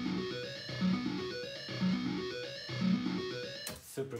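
A distorted arpeggiator on a guitar track in a trap/rock song, looping a repeating bright note pattern over a heavy, full mix, with a noisy burst near the end.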